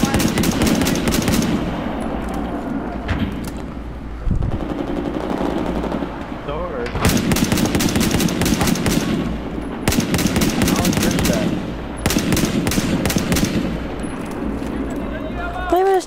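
Battlefield 4 gunfire comes in several long sustained bursts of rapid automatic shots, loud and close, separated by short gaps, with a voice speaking between them.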